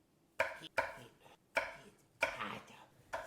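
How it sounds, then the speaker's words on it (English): A knife chops apples on a cutting board at home, giving five sharp, separate chops spaced irregularly about half a second to a second apart, fairly close and with nothing else playing. "And now, we have to chop up the apples."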